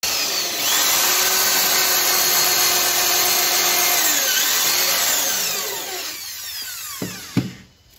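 Power drill drives screws to fix an MDF jali panel in a mandir cabinet, whirring loudly and continuously with pitch shifts for about six seconds before winding down and stopping with a couple of short clicks.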